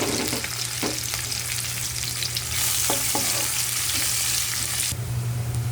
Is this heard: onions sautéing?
yes